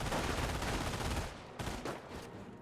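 Heavy machine-gun fire from MG42s in the Company of Heroes strategy game, a dense, loud, continuous rattle of bursts that thins out toward the end with a few separate sharp cracks.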